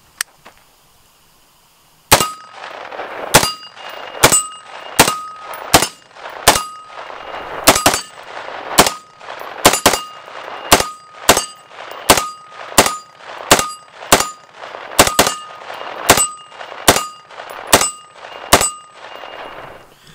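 About twenty sharp 9mm subgun shots fired one at a time in a fairly steady rhythm, each a loud close crack with a ringing metallic clang from brass casings striking a shell deflector, and no talking.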